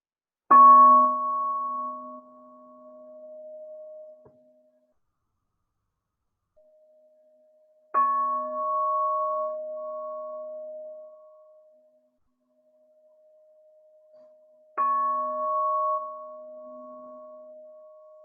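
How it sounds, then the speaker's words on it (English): Three slow, resonant chime strikes rung during a quiet yoga relaxation, each ringing out and fading over several seconds, spaced about seven seconds apart in near-silence. "take in these chimes, let it take you a little bit deeper"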